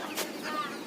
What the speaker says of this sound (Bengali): আর এই যে দেখতে পাচ্ছেন মুরগি